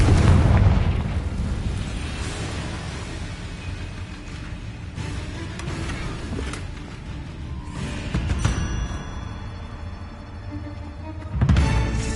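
A Confringo fire spell from Hogwarts Legacy explodes in a loud booming burst, then a long rumbling roar and a second blast near the end, with no talking.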